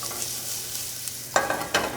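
Chopped shallot hits hot bacon fat in a pan, a soft background sizzle broken by a couple of sharp scraping stirs near the end, close and without talking.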